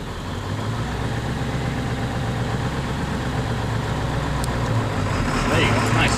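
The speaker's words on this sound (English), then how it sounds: "So go ahead and start letting off the clutch and start giving it gas." A manual-transmission car's engine hums steadily as the clutch is let out and gas applied during a driving lesson, a continuous mid-low drone rising slightly at the end, with voices talking over it.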